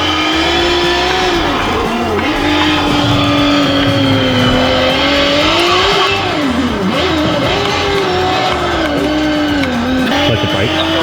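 A loud Nissan Z31 car engine in a sim racing game at Bathurst revs continuously, its pitch rising and falling with each gear change, over a steady mechanical drone; a voice speaks briefly.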